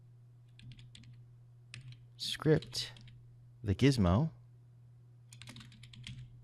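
Computer keyboard typing in a software tutorial, light scattered key clicks that come in small bursts between and beneath a man's speech, quiet and close over a steady low electrical hum.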